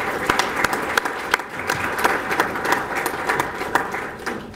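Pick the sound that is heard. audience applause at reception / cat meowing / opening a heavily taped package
audience applause at reception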